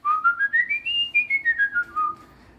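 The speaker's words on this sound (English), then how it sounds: "So, I can whistle all right," A single person whistles a melodic tune of bright, pure notes in a smooth rising then falling phrase, close and clear with no talking.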